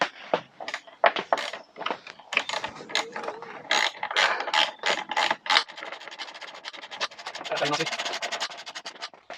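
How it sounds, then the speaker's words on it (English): Ratchet clicking rapidly in repeated bursts while a bolt is tightened on the fairing of a Yamaha Thundercat motorcycle, close and fairly loud, with short pauses between strokes. "we're going to get this bolt in now"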